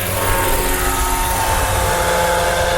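Roban MD-500E 800-size scale RC helicopter flying, its rotor and motor making a steady loud whine and buzz, continuous and close, with no talking.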